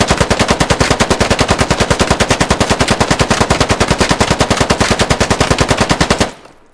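Loud automatic gunfire from a rifle in the video game Squad, a fast unbroken stream of sharp shots fired at a steady rhythm for about six seconds, then cut off abruptly into silence.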